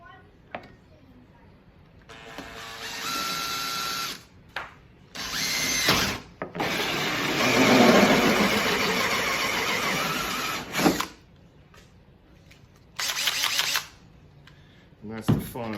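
A power drill drives a hole saw through the hull of a Coleman fishing canoe, with several loud whirring bursts of cutting that start and stop between quiet pauses.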